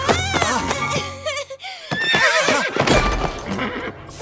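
A cartoon toy horse whinnies in a playful animated scene, a loud drawn-out neigh with wavering pitch, followed by snorts and busy scuffling sounds close by.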